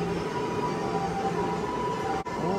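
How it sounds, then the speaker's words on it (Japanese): Wailing ambulance siren drifting through the city near a busy Sōbu Line rail corridor by Akihabara and Ochanomizu, a steady tonal wail layered with constant broadband traffic and rail rumble, fairly far off and continuous. "救急車多いね今日。"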